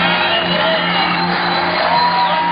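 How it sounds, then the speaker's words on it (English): A home crowd at a men's bouldering World Cup final in Vienna shouts and whoops for Austrian climber Kilian, a dense, steady roar of voices that stays loud throughout. "Local crowd here getting behind Kili."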